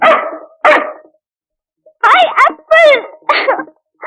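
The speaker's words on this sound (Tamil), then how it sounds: "ஏன் உன்னை பார்த்து நாய் குலைக்குது அடிக்கடி" A dog barks loudly and close, several sharp barks in two bursts separated by a short silence, standing alone without talk.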